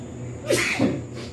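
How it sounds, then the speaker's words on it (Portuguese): A single close, sharp human sneeze from someone with allergies, a quick two-part burst standing alone against quiet room tone. "já não consigo mais nem ficar 1 minuto sem espirrar"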